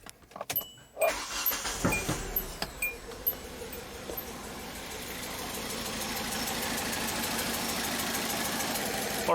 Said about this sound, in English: So now I'm gonna start the engine.